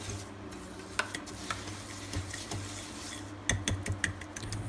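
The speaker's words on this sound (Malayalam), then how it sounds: "ഇത് നമ്മൾ ഈ ബീറ്റർ വെച്ച് നമ്മൾ മിക്സ് ചെയ്യുമ്പോൾ" Brownie batter and sugar being mixed with a beater in a bowl, a faint steady scraping with repeated light clinks and taps against the bowl, close by and without speech.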